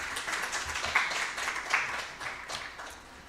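Audience applause after a presentation at a robotics conference session, a steady patter of moderate clapping from a seated crowd, fairly soft and fading slightly toward the end.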